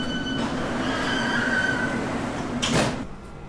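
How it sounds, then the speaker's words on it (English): London Underground Central Line train at close range, a steady rumbling hum with faint whining tones, then a short hissing burst as the sliding doors move before the sound drops away. "This is a Central Line train to West London."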